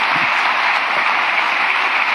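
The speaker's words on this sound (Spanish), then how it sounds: "Dale un aplauso al Rey bendito por eso." Sustained applause from a church congregation in Jalapa, Guatemala, a dense steady wash of clapping with no pauses.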